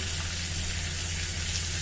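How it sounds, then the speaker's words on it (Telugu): Tempering spices sizzle steadily in hot oil for a masoor dal with fenugreek, a dense, continuous close-up crackle with no pauses. "వేగిపోతుంది తాలింపు తాలింపు బాగా వేగాలండి"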